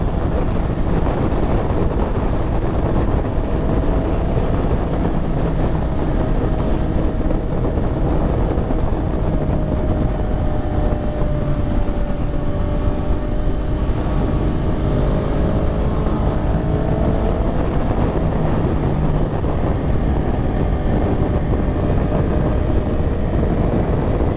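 Strong, continuous wind roaring and buffeting against the microphone, a loud steady rush with an engine-like rumble underneath throughout.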